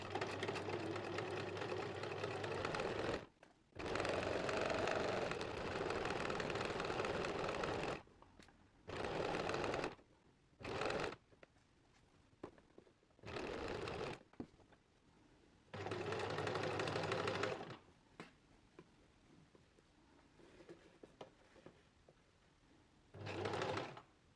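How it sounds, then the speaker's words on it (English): A sewing machine stitches along a pocket bag edge while sewing an inseam pocket, running in several loud close bursts of a few seconds each, separated by short pauses, with no talking. "Put the presser foot back down and continue to sew until you reach the next junction."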